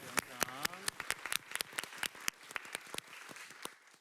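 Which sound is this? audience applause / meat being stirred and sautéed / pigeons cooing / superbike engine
audience applause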